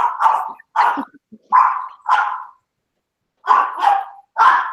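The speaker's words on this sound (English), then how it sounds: "my dog is so bad. She barks at everybody outside the window." A female dog barks at passers-by outside a home window: about seven sharp barks in two clustered bursts with a short pause between, close and loud, with no talk.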